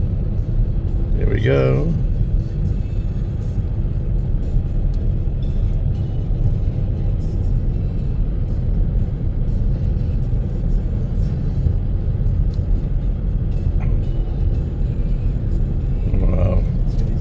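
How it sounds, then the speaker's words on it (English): Old gravel trucks labor up a hill in the Smoky Mountain foothills near Pall Mall, Tennessee, a continuous heavy engine rumble with brief talk over it. "These old gravel trucks have a hard time coming up the hill."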